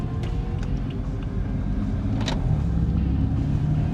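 A BMW M4 rolls along very slowly, a low steady engine rumble with a muffled interior drone and a faint brief knock partway through.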